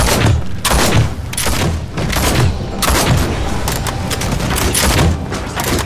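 In the game Nosgoth, a fireball attack erupts in a run of loud booming blasts and thuds layered with gunfire-like cracks, a chaotic, continuous barrage up close.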